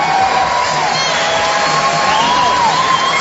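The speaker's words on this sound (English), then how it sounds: "You hear the crowd appreciate the effort by Arceo." A large boxing crowd roars and cheers continuously, a dense, loud wash of voices with shouts rising above it.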